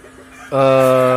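Guineafowl being tamed gives a loud, sustained harsh call that starts abruptly midway after a quieter lead-in, with no talk over it.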